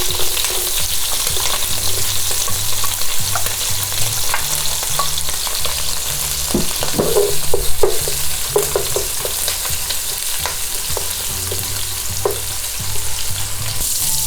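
Garlic frying in a pan alongside pork, a loud, constant close-up sizzle and hiss with intermittent stirring scrapes and light clicks of a utensil, no voices.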